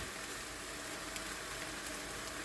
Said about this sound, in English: You'll see it's getting a nice little sear on it.